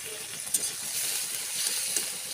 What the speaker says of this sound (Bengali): এবার একটা টমেটোর কুচি দিয়ে দেব, দিয়ে এটাও আমি হালকা নেড়ে নেব।